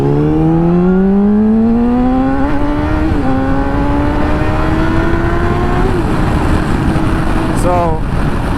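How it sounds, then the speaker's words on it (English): A tuned motorcycle engine revs loudly and climbs steadily in pitch, with brief pops and crackles from the exhaust between the pulls. It is heard close up and dominates throughout. "the tune is nuts. It completely changed the way the bike feels, and the pops just never fail to put a smile on my face"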